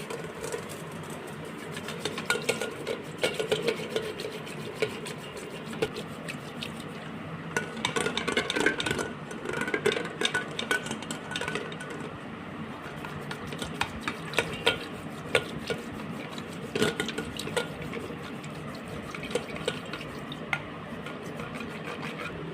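Curd is churned into buttermilk for majjiga podi, producing a busy rhythmic whisking and sloshing with clinks against the vessel that come in bursts over about twenty seconds, with no talking.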